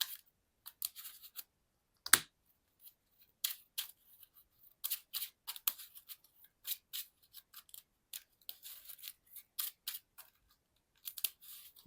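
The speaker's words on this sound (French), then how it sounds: "Donc je remélange." Cards from a Marvel Champions card game deck are shuffled by hand, giving a close, quiet run of crisp, irregular snaps and riffles with short silent gaps between bursts.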